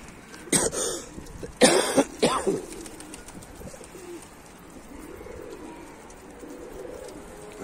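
Pigeons at a Turkish pigeon loft with soft cooing in the background, interrupted by a few sharp, loud bursts near the start, then a quieter stretch of low coos and outdoor ambience.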